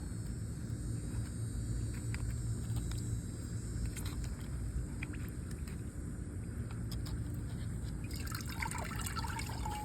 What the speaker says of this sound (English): Let me give them some water real quick.